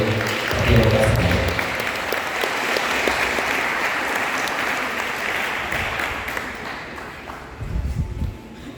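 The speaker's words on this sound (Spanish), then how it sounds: "Fuertes aplausos para recibir al profesor Silverio Santiago Castañeda." Crowd at a community elders' council gathering in Caxhuacan, Puebla, breaking into sustained applause to welcome a professor; dense clapping swells, holds steadily for several seconds, then thins out as a voice starts speaking.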